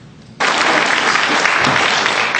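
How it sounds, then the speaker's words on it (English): A room of people at an AmeriCorps swearing-in ceremony bursts into loud, steady applause after a brief quiet moment, the dense clapping sustained and close. "You may want to quit clapping."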